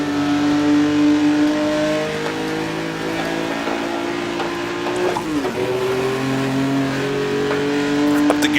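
Engine of a 1958 Formula One race car in the Automobilista racing game holding a loud, steady, close whine, dipping as the gears change partway through and then climbing again, with other cars being passed one by one.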